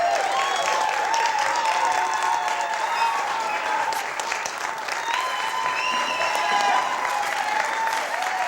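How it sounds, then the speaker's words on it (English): A live audience claps and cheers steadily during a race on a late-night variety show, a dense, continuous wash of applause with excited voices mixed in throughout. "Cheer them on."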